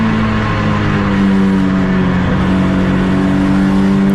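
Heard onboard at Donington Park, a BMW race car engine pulls hard under full throttle, its loud, close drone holding steady and climbing slightly as the car accelerates out of a corner.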